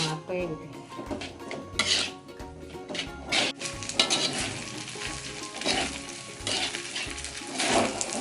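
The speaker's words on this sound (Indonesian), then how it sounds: "Kita aduk terus nih sampai rata, sampai kecampur rata bumbunya, sampai matang." Nasi goreng fried rice is stirred in a pan with a metal utensil: repeated scraping and clinking strokes over a continuous low sizzle, close up and without talk.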